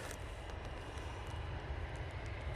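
An EasyJet airliner rolling down the runway for takeoff, heard as a steady broad jet roar and rumble at a distance, even and unbroken throughout.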